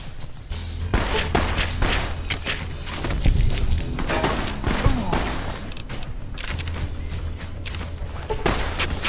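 Enemy gunfire in Fallout: New Vegas, a dense volley of loud, close gunshots and booming impacts crackling for several seconds, with a brief lull before more shots.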